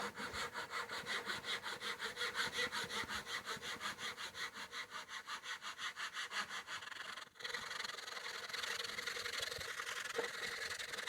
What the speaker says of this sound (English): I'm going to use the dovetail saw because you're doing more of a rip cut.